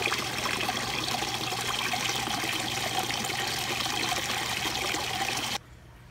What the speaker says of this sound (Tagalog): mas malakas yung flow niya kasi yung timba, yung level ng tubig hindi bumababa